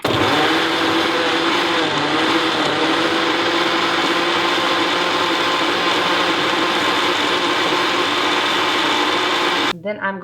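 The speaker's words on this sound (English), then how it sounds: "putting that into the blender" A blender whirs loudly and steadily for about ten seconds, blending a greens superfood drink, then cuts off abruptly near the end.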